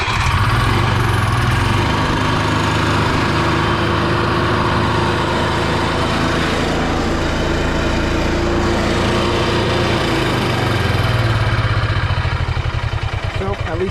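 An Onan Microquiet generator engine drones at constant speed throughout, a low rumbling hum with no pauses or changes in pitch.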